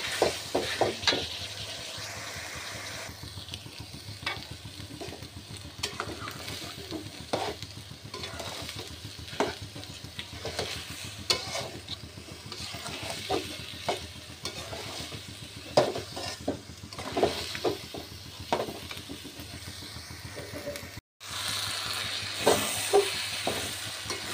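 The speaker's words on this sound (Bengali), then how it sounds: "চাল ভালোভাবে ভাজা ভাজা হয়ে গেছে" Rice and lentils frying with potatoes in a pan, scraped and stirred repeatedly in an uneven rhythm over a steady sizzle, close and moderately loud, with a brief dropout near the end.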